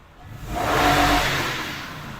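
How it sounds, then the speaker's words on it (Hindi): A 2008 Toyota Land Cruiser 200 Series with a 4.7L V8 revving once, engine note swelling to a broad roar then easing back down, close and loud, no talking. "ये इसका स्टार्टअप है व्यूअर्स, और आप आरपीएम चेक करें कि मैं इसको थ्रॉटल देता हूं तो आरपीएम पूरा 6 को जाके टच करता है"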